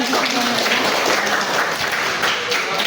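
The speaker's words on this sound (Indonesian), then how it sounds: "Kita kasih aplaus bersama." A university class audience claps together in steady, dense applause that fills the room at a constant level for the whole span.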